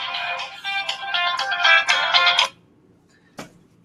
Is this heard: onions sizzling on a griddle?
no